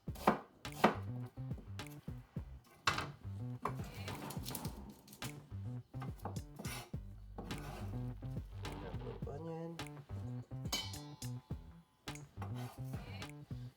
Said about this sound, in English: I'm dicing them up first by cutting them down sideways